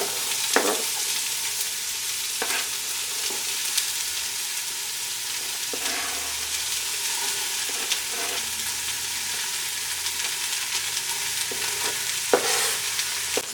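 Onions fry in a pan for vegan beef crumbles, giving a continuous bright sizzle with a few louder crackles and periodic stirring scrapes, without talk.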